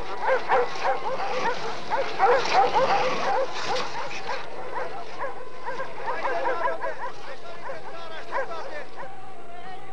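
Village dogs bark, yip and whimper at a stuffed wolf, several animals close together in an excited, overlapping chorus that flares early and then continues more unevenly.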